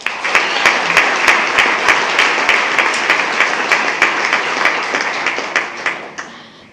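Sustained audience applause fills a school board meeting, dense steady clapping from many hands with a few sharper individual claps, fading toward the end.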